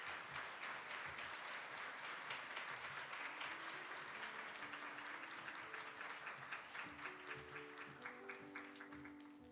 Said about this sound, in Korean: 우리 박수로 맞이하도록 하겠습니다.